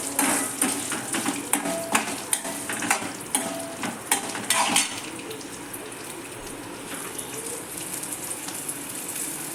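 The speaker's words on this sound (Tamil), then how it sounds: "கருகு விடாமல் வதக்கணும்" Small shallots and half a piece of coconut are sautéed in a pan for village-style roasted-and-ground mutton curry: a run of close scraping spatula strokes over a sizzle, then a steady, quieter frying hiss.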